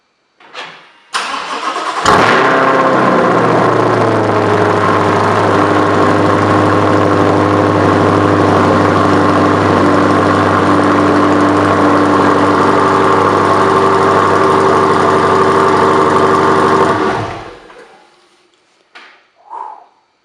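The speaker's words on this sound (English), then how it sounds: "This is the first start with the new 2M Fabrication Cat-back exhaust." A C8 Corvette engine cranks and fires up on a 2M Fabrication cat-back exhaust, then settles into a loud, steady idle with a deep throaty exhaust note for about fifteen seconds before shutting off.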